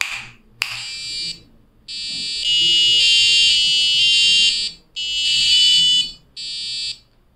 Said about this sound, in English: playing an alert sound to alert the parents that the baby is awake